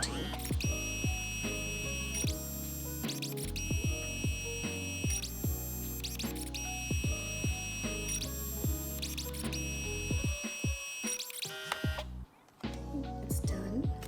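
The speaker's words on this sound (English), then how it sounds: "Now it's printing." A Kodak Mini Shot 2 Era instant camera prints a photo with a rhythmic electronic whirring and repeated pulsing tones, steady and close, interrupted by brief pauses, continuing for the whole stretch without any talk.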